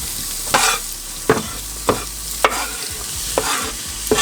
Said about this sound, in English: You wanna make sure that you saute these peppers until they are soft and translucent